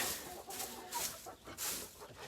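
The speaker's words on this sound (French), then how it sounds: "Un poule qui couve." A brooding hen sitting on a clutch of Marans and Araucana eggs gives soft, repeated low clucks in a short, steady series, close by and with no voices.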